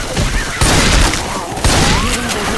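Gunfire in Left 4 Dead 2 at the Dark Carnival, rapid overlapping shots and booms in a dense, loud burst over chaotic game noise.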